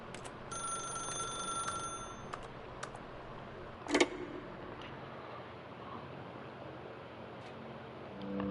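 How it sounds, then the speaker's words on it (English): Telephone ringing in the video game The Stanley Parable 2, a steady electronic ring repeating over a quiet room tone, with a sharp short clatter midway and no talking. "Now pick up the phone."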